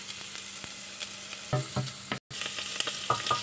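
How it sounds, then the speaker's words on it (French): Garlic and shallots sautéing in a pan for a Vietnamese yam root soup, giving a steady close sizzle and frying crackle with a few stirring clatters and one brief dropout midway. "Je vais sauter de l'ail et des échalotes"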